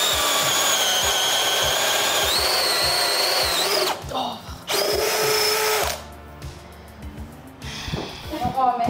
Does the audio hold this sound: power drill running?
yes